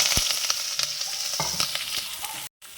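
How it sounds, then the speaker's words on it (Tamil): Chopped onions fry in hot oil with mustard seeds in a close, steady sizzle with sharp stirring taps against the pan. There is a brief dropout to silence near the end and no speech. "வெங்காயம் கட் பண்ணி வச்சுருக்கிறத போட்டுக்கலாம்"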